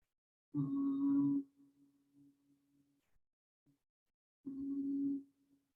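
A long, steady hummed Om chant during a breathing exercise in a yoga-style balance and flexibility session, sounding twice as a low sustained tone with quiet breathing in the gap between.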